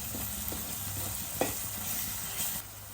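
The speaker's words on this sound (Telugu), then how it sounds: "పచ్చిమిర్చి, ఉల్లిపాయల్లో ఉన్న నీరంతా ఇంకి బ్రౌన్ కలర్ వచ్చే వరకు వేయించుకోండి" Onions, green chillies and ginger-garlic paste fry in a pan for a South Indian mutton paya curry, a soft continuous sizzle with occasional scraping stirs and a brief clink, heard alone with no talking.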